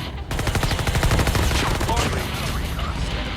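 Rapid automatic gunfire from a shooting video game, a steady loud stream of evenly spaced shots lasting throughout, with faint game effects beneath and no clear speech.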